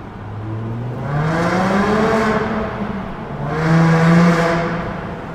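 A 2000 VW New Beetle RSI engine revs high twice in succession, each rev rising and falling in pitch with a bright, harmonic tone, close and loud.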